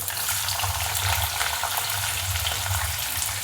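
Loud, continuous sizzling and crackling of onion frying in hot oil with mustard seeds, cumin and peanuts, steady throughout with a low rumble beneath.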